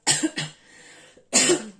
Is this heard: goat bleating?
no